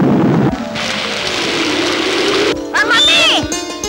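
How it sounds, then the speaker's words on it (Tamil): Heavy rain pours in an old Tamil film scene as a dense, hissing roar that starts abruptly and runs steadily, then drops away as tonal music and voices take over near the end. "பயங்கரமா மழை பெய்யுற"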